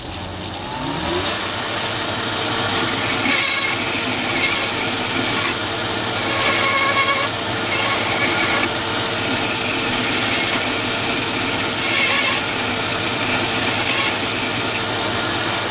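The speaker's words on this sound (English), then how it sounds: "And then just deburr that one." A metal lathe runs loud and steady while a brass fire piston part is deburred, a constant machine whine and hum with faint scraping textures throughout, no talking.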